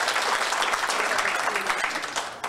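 Crowd applause at an elementary school alumni year-end party as a graduating class is introduced, steady dense clapping filling the room throughout.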